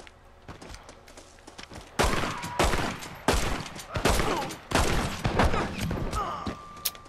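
Gunfire from a weapon in Red Dead Redemption multiplayer: after a quiet lead-in, five or six loud, sharp shots land at irregular intervals, each ringing out with a short echoing tail.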